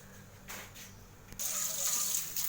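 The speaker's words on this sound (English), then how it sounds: "I'm just straining the noodles by putting a little bit of cold water." Cold tap water runs over cooked noodles as they are strained in a home kitchen, a faint trickle that swells into a louder steady gush partway through, with no talk.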